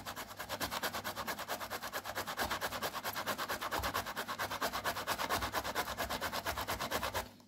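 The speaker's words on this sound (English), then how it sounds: "we need to grate the tomato to get the fresh tomato juice" A fresh tomato is grated by hand, giving a fast, even series of rasping strokes. The scraping is close and fairly soft, steady throughout and alone.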